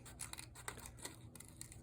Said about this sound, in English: I'm not turning the scissors as much, so it's nice and comfortable on my hands